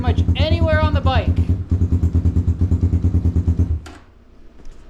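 Kayo 230 dirt bike engine idles with a steady low, pulsing chug of regular beats for about four seconds before cutting off, with a person speaking over it near the start.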